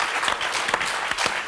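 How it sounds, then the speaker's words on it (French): An audience applauds a magician, a dense burst of clapping from many hands that stays loud and even throughout, with no voices over it. "On peut l'applaudir parce que personne n'avait trouvé"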